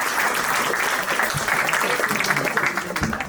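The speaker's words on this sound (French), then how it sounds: "On peut l'applaudir." A crowd of volunteers at an evening event held by the town hall claps steadily, a dense, even wash of applause lasting the whole stretch with a faint voice beneath.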